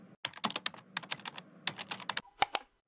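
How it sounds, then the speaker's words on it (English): Typing on a computer keyboard: a quick, irregular run of close, crisp key clicks with short pauses, ending in two louder, sharper keystrokes. "I am going to type it in to see what it is."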